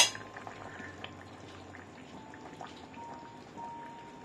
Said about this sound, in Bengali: এখন আমি এর মধ্যে ট্যাংরা মাছগুলো দিয়ে দেব।